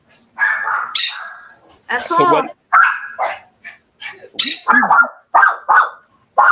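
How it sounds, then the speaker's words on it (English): A pet dog named Penny barks in sharp, repeated bursts at close range, yips cutting in and out between and under several people talking loudly around her. "will somebody pet Penny so she stops barking?"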